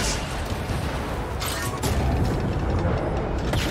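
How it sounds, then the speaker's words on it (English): Dense bursts of rapid electronic blaster fire with booming impacts in the video game Star Wars Jedi: Fallen Order, loud and continuous over a noisy battle background. "That's the blasters."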